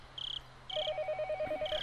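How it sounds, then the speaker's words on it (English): A telephone ringing with repeated electronic trilling bursts, fairly close and steady, alone over a faint background hum. "But since the phone rang, I had to pick it up."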